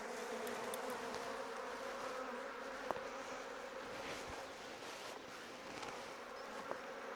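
Bees buzzing around an open beehive on a smallholding, a continuous low drone from many insects with faint passing flybys, fairly quiet and steady throughout.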